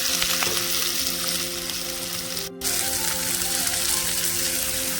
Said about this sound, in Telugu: ఇప్పుడు ఆనియన్స్, పచ్చిమిర్చి వేసేద్దాం.